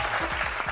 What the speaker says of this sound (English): by round of applause, who thinks it was President Trump?